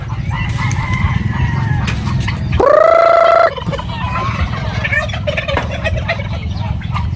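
Pet turkeys gobble at close range, with a loud, sustained rising call near the middle standing out over steady clucking and a constant background rumble.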